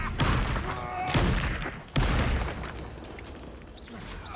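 Bombarda explosion spells cast in the wizard game Hogwarts Legacy, a few heavy thumping blasts with booming tails, one loud burst near the midpoint, mixed with a voice casting spells.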